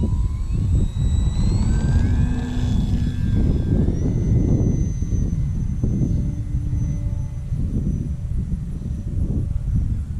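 A ParkZone Sport Cub S2 RC model airplane taxiing on the ground on a windy hot day, its small electric motor whining steadily and shifting pitch over a constant rumble of wind and outdoor noise.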